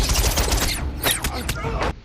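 A rapid burst of gunshots from a pistol in a fight scene in the film Transformers (2007) cracks out over a noisy scene, several sharp shots in quick succession before cutting off.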